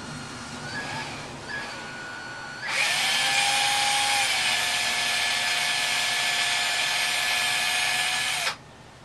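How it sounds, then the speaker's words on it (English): A power drill whines briefly twice, then runs steadily at high pitch for several seconds while boring, before stopping abruptly. "I really can't get my drill bit in from this side"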